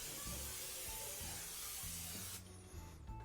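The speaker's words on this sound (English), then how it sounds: "I'm gonna give it a nice spray of cooking spray." A continuous hiss of aerosol cooking spray lasting a couple of seconds, then cutting off to a quieter background with faint low hum.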